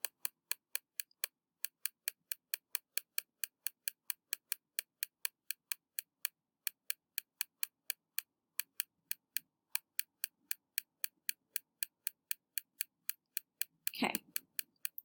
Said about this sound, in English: I'm clicking really, really hard.